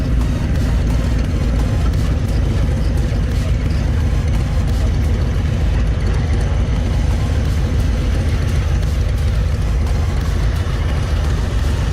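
A 2020 Harley-Davidson Low Rider S with the 114 engine cruises down the road, producing a steady, loud, continuous low engine rumble mixed with wind and road noise and no change in intensity throughout.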